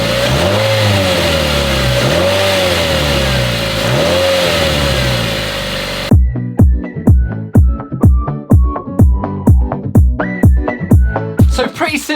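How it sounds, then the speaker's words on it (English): A Mazda MX-5 engine with its stock airbox revs loudly and steadily for several seconds, then a rapid series of sharp blips and revs follows, close and loud. "we've got to hear how this car sounds stock without the air filter"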